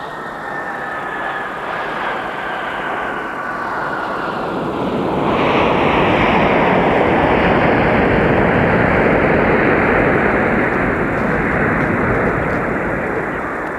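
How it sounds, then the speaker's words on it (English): A Boeing 757 airliner arriving from Orlando at MSP airport in winter: a loud, broad jet roar that swells midway and holds steady as the plane passes close by. "Take another look at our 757 arrival. This came in from Orlando, Florida."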